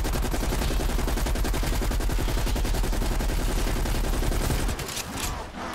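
Dense, continuous automatic gunfire from a Call of Duty: Black Ops Cold War match rattles loudly and steadily for about five seconds, then thins out near the end.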